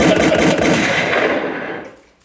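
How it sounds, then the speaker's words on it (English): A gunshot sound effect plays during a podcast: one loud, broad blast with a rattling tail that decays over about two seconds, with no talking over it. "Give me a gunshot."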